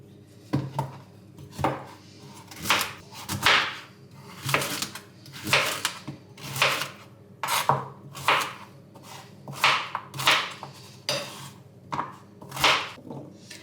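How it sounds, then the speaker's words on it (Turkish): Celery being chopped on a cutting board in a home kitchen: sharp, regular knife strikes about once a second, close and distinct, with brief quiet gaps between cuts. "Önce kerevizimi doğrayacağım."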